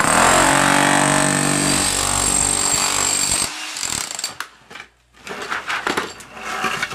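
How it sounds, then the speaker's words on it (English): A small, light-duty electric chipping hammer breaks out a thin layer of material during basement waterproofing work, roaring loud and continuous up close, then stopping and restarting in short bursts. "Now this here is just a little tiny chipping hammer."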